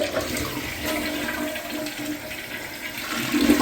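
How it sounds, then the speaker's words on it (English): A toilet flushing during a plumbing service call, a rushing, gurgling surge of water at close range, alone and with no talk. "Let's see what kind of flush we get with this."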